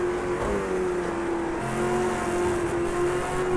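Race cars in the Project Cars 2 racing game, played on a G27 steering wheel, their engines droning steadily at high revs, with a constant dense roar of cars accelerating together and no speech.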